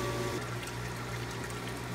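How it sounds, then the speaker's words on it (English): Water flows constantly into an aquaponics tank and splashes onto its surface, making a steady, unbroken trickling wash under a low mechanical hum. "I have water constantly flowing and hitting the surface of the water"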